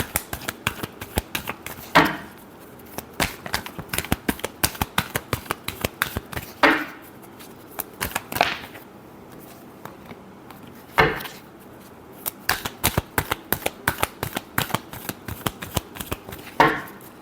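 Tarot cards shuffled by hand in a steady run of rapid, crisp flicks and riffles, close up, with a few louder slaps as the deck is squared.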